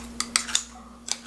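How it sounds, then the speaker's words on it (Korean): Scissors snipping kimchi inside a stainless steel cup: four sharp metallic cuts in quick succession, a short pause, then one more, close and clear over a steady low hum. "스텐컵이나 컵 같은 데다가요. 이렇게 가위로 이렇게"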